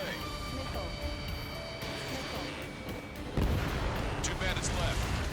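A missile fires from a jet in Ace Combat 7, a sudden loud whooshing roar cutting in midway over steady engine rumble, with radio chatter in the background.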